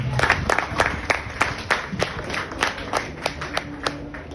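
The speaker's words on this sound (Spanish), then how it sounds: "Denle un aplauso a Dios." A church congregation claps in a fairly regular, rhythmic pattern, with sharp, distinct claps and a little crowd murmur beneath, close and moderately loud throughout.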